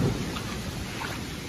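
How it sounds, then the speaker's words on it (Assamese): Heavy rain falling in Meghalaya, a brief dense hiss of steady downpour with a low rumbling undertone, continuous and close without any voices. "বৰষুণটো এতিয়া বাঢ়ি বাঢ়ি গৈ আছে"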